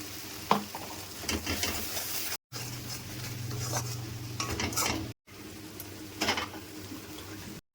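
Spice paste of green chilli paste, salt and turmeric frying in a pan for a gandharaj prawn curry, with steady sizzling and scraping stir strokes that are interrupted by short cuts of silence.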